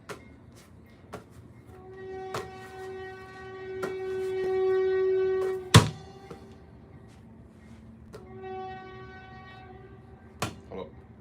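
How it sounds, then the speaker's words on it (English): A passing train gives a long, sustained horn-like tone that builds and then cuts off sharply, followed by another fainter tonal stretch, with sharp clicks and knocks scattered throughout. "Got the train going through."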